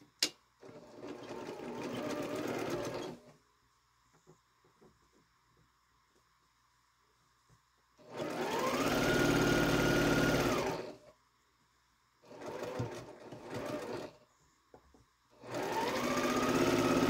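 A sewing machine stitches quilt block pieces in four separate bursts of rapid, humming mechanical running, with quiet pauses between them.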